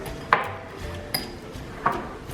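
A utensil scrapes and clinks against a bowl while onion powder is mixed into compound butter, three sharp knocks spaced about a second apart over a quiet kitchen background, with no talk.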